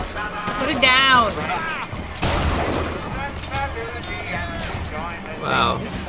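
A gun fires in the first-person shooter BioShock Infinite, a loud blast that cuts in partway through, with someone talking over it for most of the stretch.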